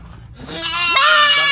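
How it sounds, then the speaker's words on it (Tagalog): A goat gives a loud, close, wavering bleat that rises and holds for about a second, preceded by faint background noise. "Ganda ng mga kambing."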